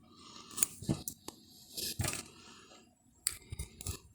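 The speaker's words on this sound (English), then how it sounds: "And then we just snip the yarn" Scissors snip yarn during crochet work on baby booties, giving several close, crisp cuts and soft rustles spaced irregularly over a few seconds in a quiet room.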